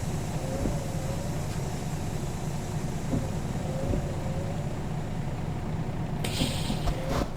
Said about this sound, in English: I like the sound it makes though, that parking brake,